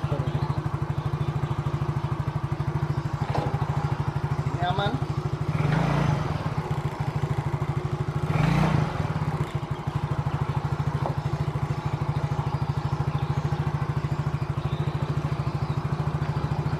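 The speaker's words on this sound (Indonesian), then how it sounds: "Oke motor ini dinyalakan sudah enak ya sudah nyaman nggak ada masalah" A fuel-injected automatic scooter, one that had been stalling on potholed roads, runs at a steady close idle with a constant low hum, faint mechanical clatter and a few brief louder bursts.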